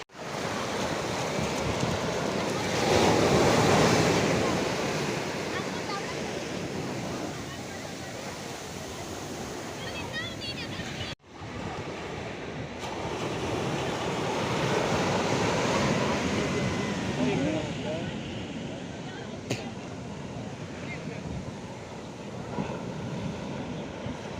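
Ocean waves at Alleppey beach wash and break in a continuous broadband roar, swelling and receding with wind noise, with people talking faintly over the surf.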